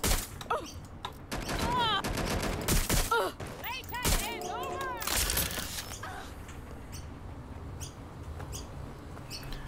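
Rapid bursts of gunfire in the video game Watch Dogs Legion, dense volleys crowding the first half and thinning out later, with a person talking over the shots.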